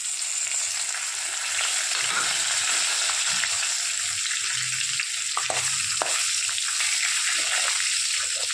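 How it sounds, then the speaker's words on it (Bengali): Whole cumin, dried red chilli, bay leaf, cinnamon, cloves and cardamom fry in oil in a kadai, giving a steady close sizzle with a few sharp crackles and pops. "এবার আমরা কড়াইতে বেশ কিছুটা তেল নিয়ে এক এক করে সব গোটা মশলাগুলো ছেড়ে দেব"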